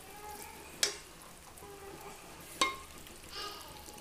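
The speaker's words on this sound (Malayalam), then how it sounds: "വഴറ്റിനതിൻ്റെ സൗണ്ടാണ്." Beef curry masala sautés in a pan for a Kerala-style dish, a quiet steady sizzle broken by two sharp close clinks of a spoon against the pan and a faint scrape near the end, with no speech.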